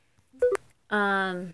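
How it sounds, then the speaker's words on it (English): Cell phone keypad tones: a couple of quick electronic beeps, then a longer steady tone, close and clear in a quiet room. "Sorry about the noise. I'm using my cell phone."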